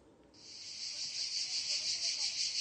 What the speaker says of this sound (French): Le chant des cigales